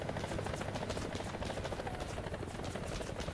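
Video game helicopter flying close, a loud, continuous rapid rotor chop with dense rhythmic thumping throughout, with no talk over it.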